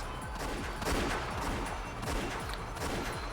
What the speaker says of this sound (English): As soon as I heard the sound of repeated gunfire, I knew.